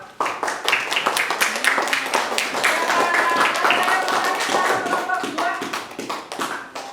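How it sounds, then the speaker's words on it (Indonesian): Students in a classroom clap for group 2 after their presentation, a loose, uneven patter of many hands building, sustained, then tapering off, with some voices mixed in. "terima kasih kepada kelompok 2, tepuk tangan dong"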